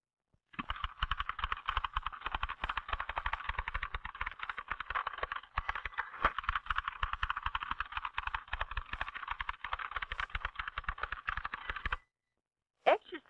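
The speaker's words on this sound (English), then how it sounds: "the person is typing as fast as he or she can" Rapid, continuous keystrokes on an old mechanical typewriter, typed as fast as possible: a dense, even stream of sharp clicks for about eleven seconds, then a pause and a brief return of clatter.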